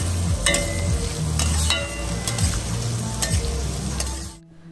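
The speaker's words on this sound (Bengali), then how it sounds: "প্রথমে গাজর আর কিছুটা বিনস ভেজে নেব।" Carrots and beans sizzle loudly in oil in a pan as the first step of fried rice, with steady frying crackle and a few sharp stirring clinks, then cutting off abruptly near the end.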